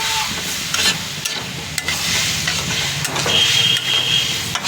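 Water goes into a pan of frying meat and potatoes for a curry, bringing a crackling sizzle with scraping stirring and clinks, fairly close and steady.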